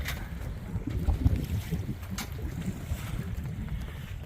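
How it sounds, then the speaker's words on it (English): Waves wash steadily around an anchored Catalina 25 sailboat at dusk, a soft continuous slosh with wind buffeting the microphone and a few louder splashes against the hull. "There's our waves coming in."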